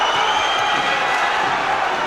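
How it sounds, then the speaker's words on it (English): A boxing arena crowd during a fight, a steady loud roar of many voices with no single standout shout, filling the whole stretch without a break. "The crowd don't want him to. Listen to them."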